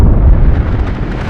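Hayli Gubbi volcano in Ethiopia erupting, a loud, deep booming blast with heavy low rumble that fills the short moment and fades slightly toward the end.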